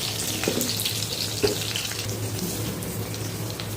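Sliced onions frying in hot oil with fennel seeds for a crab masala: a steady, close, hissing sizzle with a few small pops and faint utensil sounds.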